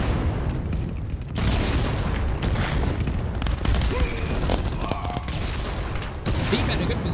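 Frag grenades going off in a competitive VR first-person shooter match, dense booming blasts mixed with steady gunfire throughout, with a commentator's voice running over the action.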